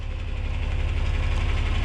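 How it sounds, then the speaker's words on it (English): A tractor hooked to an animal feed maker idles steadily nearby, a constant low diesel rumble with a faint rhythmic knock and no talking. "Shut the tractor off. It's hooked to the animal feed maker,"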